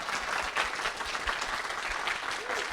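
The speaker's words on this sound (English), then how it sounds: "I'm going to turn the microphone toward the audience so you can hear their applause" An audience at an event for Walkabout Mini Golf's Myst course claps continuously, a steady, moderately distant roar of many hands with low murmurs mixed in, captured by a microphone turned toward the crowd.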